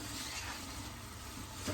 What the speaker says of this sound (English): Give it one more mix over the heat.